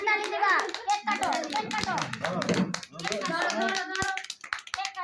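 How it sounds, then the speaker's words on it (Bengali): Several people clap hands at a cake cutting, sharp irregular claps close by, mixed with children's chatter and adult voices talking throughout. "এবার হাততালি দিবা সবাই সবাই হাততালি দিবা"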